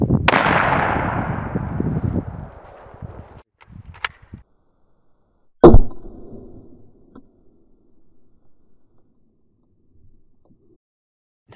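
A Kar98k rifle fires an 8mm 198-grain full-metal-jacket bullet through a frying pan: one loud sharp crack with a long fading tail, a brief clank, then a second sharp report that rings and decays into quiet.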